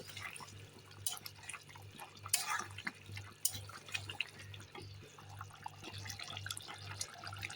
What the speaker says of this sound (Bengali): একটু জল দিয়ে দিই জল দিয়ে দিলাম